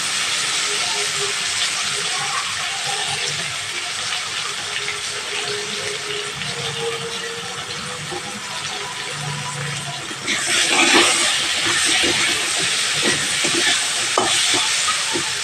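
Continuous sizzling of cut potatoes frying in hot oil, a dense steady hiss that grows slightly louder and busier partway through.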